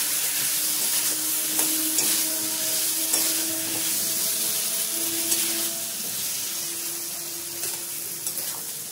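Potatoes for a Gujarati aloo ponga are stirred in a pan with fresh coriander, giving a steady close sizzle with scraping stir strokes throughout.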